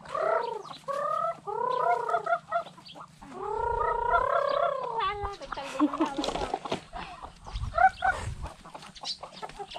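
Chickens cluck and squawk in bursts close by, with a rooster-like call mixed in, over a low hum and scattered background clatter.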